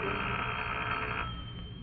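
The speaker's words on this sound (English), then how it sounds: "I went home and waited for the phone to ring." A telephone rings in a radio drama: a single sustained, bright electric bell ring, loud and alone, tapering slightly at the end.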